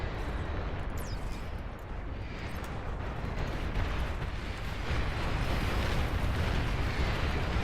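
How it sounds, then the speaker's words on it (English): Missiles landing and exploding in the real-time strategy game Beyond All Reason, a dense continuous roar of overlapping blasts and rumble that swells slightly louder toward the end, with no talking. "Do I have missiles landing here?"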